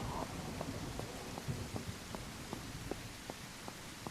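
Rain falling in a video game, a faint steady hiss of drops with soft regular ticks, low in level and alone.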